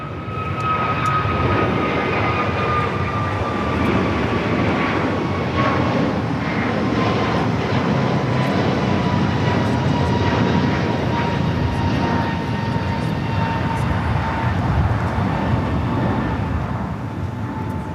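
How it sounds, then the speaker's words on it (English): A fixed-wing airliner departing runway 25 right at LAX bound for Charlotte, a loud sustained jet engine roar with a slowly falling whine, steady for the whole stretch and heard alone. "This flight heading to Charlotte."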